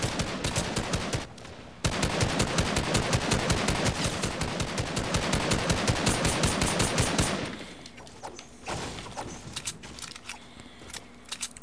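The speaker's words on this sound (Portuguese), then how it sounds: "O cara tá atirando pra cá, pô." Rapid automatic gunfire in the Fortnite video game rattles loudly in a long, dense volley, then thins into scattered, quieter shots.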